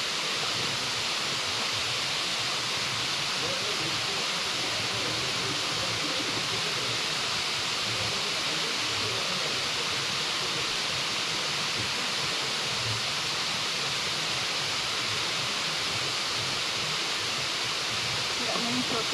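Rushing water of Yellow Dragon Waterfall pours in a steady, loud broadband roar that holds unbroken for the whole stretch, close by and dense, with no voices rising above it.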